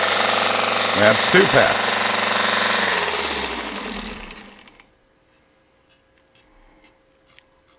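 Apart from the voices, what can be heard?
mini belt sander sharpening a knife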